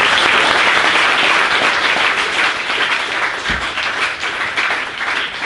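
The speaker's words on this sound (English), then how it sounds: "have a big round of applause for Tony" A conference audience at an SEO event in Chiang Mai applauds steadily for a presenter, a dense, loud wash of many hands clapping that holds for several seconds and eases slightly toward the end.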